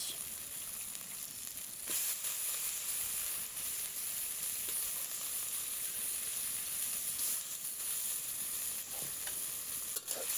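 Stinging catfish hit a pan of fried spice paste and sizzle steadily, a dense, close hiss that holds evenly throughout with a few soft stirring knocks.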